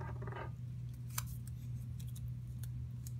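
Tape being torn to fix a wire to a battery for a homemade electromagnet, heard as a short burst of ripping in the first half second, then a few faint clicks over a steady low hum.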